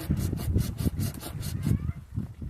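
A handsaw cuts through an apple tree branch during pruning of an old tree, with steady back-and-forth strokes in a regular rhythm, close and fairly loud, slowing near the end.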